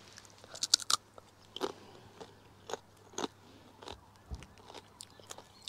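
Crunchy nachos topped with sour cream and jalapeños, cooked at a campsite, are bitten and chewed up close, giving a series of sharp, irregular crunches and softer chewing sounds with no talking.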